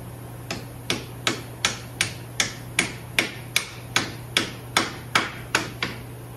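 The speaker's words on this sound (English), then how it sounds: "We have a little hammer." A small hammer taps rusty, stubborn metal in a steady rhythm, about sixteen sharp ringing strikes, close up, with a low hum underneath.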